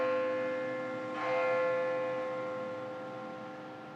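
The carillon at Grace Cathedral sounds a sustained, ringing chord of church bells with long, shimmering tones that slowly decay, alone and moderately loud.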